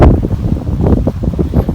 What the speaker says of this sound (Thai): ลมแรงก็ขอโทษเด้อเพื่อนๆเด้อ